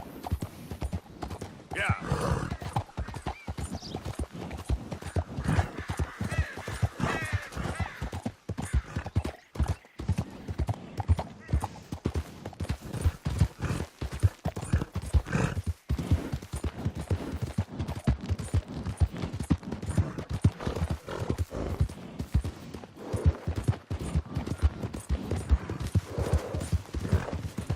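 Horse hooves in the Red Dead Redemption 2 video game, a steady galloping clip-clop throughout with occasional whinnies and distant gunfire bursts, while a voice speaks briefly.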